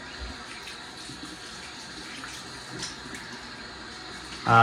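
Tap water running steadily while a face is rinsed after a wet shave, a soft continuous splashing close by, ending in a louder burst near the end.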